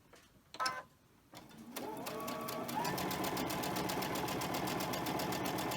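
After a few handling knocks, a sewing machine starts and runs at a steady, fast, rhythmic stitching pace, close and continuous, joining two fabric quilt pieces.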